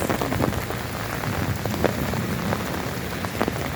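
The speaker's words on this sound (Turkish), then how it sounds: "Şakır şukur yağmur yağıyor arkadaşlar." Heavy rain pours down steadily in Antakya, Hatay, during flooding, a dense, close patter of drops with no voices.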